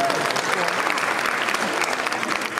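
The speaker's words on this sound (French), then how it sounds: "Je vous demande encore de l'applaudir très fort." Audience at a Miss Côte d'Ivoire Belgique 2024 beauty pageant applauding loudly and steadily, a dense wash of clapping filling the room without pause.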